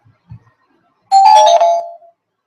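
A single electronic doorbell chime rings out loud and close, lasting about a second after near silence.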